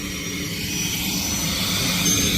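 A helicopter lifts a rooftop unit at a mall, its engine and rotor making a steady, continuous roar that holds at an even loudness, with no voices over it.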